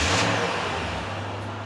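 A car engine runs at idle with a steady low rumble and a slight rise in revs at the start, close and alone, on a vehicle with a charging fault after a new battery and alternator.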